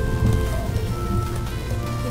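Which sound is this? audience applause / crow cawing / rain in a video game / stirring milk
rain in a video game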